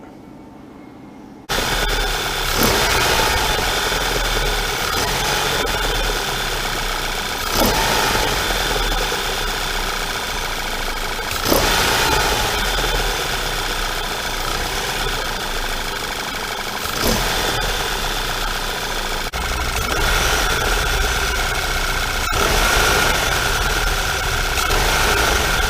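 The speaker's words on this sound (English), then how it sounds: "Go ahead and start the engine." A Mk6 VW Golf GTI engine cranks and fires after silence, following a serpentine belt tensioner replacement, then settles into a steady, close idle with a few small bumps and ticks and no talking.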